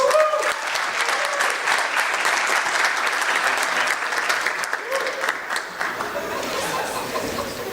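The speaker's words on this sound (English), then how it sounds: "So let's welcome James to the lectern with lots and lots of applause." Lively audience applause welcoming a speaker to the lectern at an agile conference talk, loud dense clapping mixed with some chuckles and crowd chatter, easing slightly toward the end.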